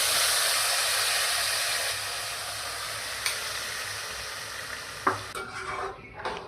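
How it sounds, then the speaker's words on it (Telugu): Tamarind rice (pulihora) being stirred in a pan gives a steady scraping sizzle throughout, with a few sharper knocks of the spoon against the pan near the end. "తిప్పుతూనే ఉంది."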